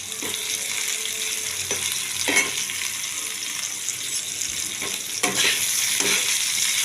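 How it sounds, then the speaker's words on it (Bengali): Potato frying in a pan with salt and turmeric for a cabbage ghonto, a steady loud sizzle with a few brief stirring scrapes throughout, no voices. "এবার দিয়ে দেবো অল্প করে নুন আর দেবো হলুদ দিয়ে আমি ভালো করে আলুটাকে একটু ভেজে নেব"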